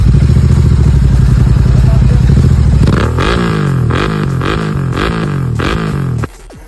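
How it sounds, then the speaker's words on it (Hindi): Royal Enfield Continental GT 650 fitted with an RRP aftermarket exhaust: a steady loud idle, then a string of sharp throttle blips with rising and falling revs, close up and with no talk, cutting off abruptly at the end. "तो नंबर 3 पे आता है RRP। तो सबसे पहले इसका साउंड"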